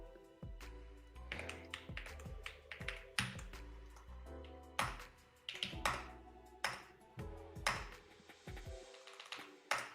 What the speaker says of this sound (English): The echo of your keyboard makes me think that you have an incredibly expensive mechanical keyboard, Will.